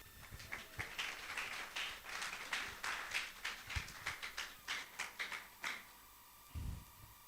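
Audience at a training summit clapping for a speaker, a sparse, uneven patter of hand claps at moderate distance that thins out toward the end, with no speech over it.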